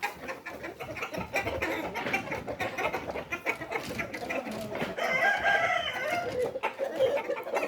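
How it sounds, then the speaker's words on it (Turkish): A Brahma rooster crows amid a busy, noisy backdrop of clucking fowl and farmyard bustle, the crow rising out of the mix toward the end. "Horoz orada."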